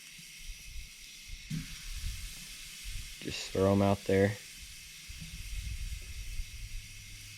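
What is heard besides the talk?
dove and pigeon breasts sizzling on a grill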